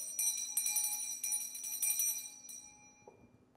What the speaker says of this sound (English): This is the bell for my Oshun.